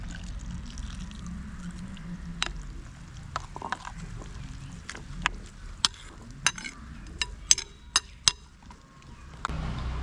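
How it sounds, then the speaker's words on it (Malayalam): Coconut milk being stirred into a raw mango curry, with faint liquid swishing and a string of sharp clicks of a spoon against the pot, all close by and with no talk. "തേങ്ങാപ്പാൽ ചേർത്ത് കൊടുത്തിട്ട് നന്നായിട്ടൊന്ന് ഇളക്കി കൊടുക്കാം."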